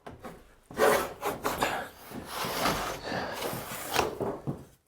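Hand tool cutting a bead molding along a wooden board, heard as close, loud rasping strokes in quick succession with short breaths between them.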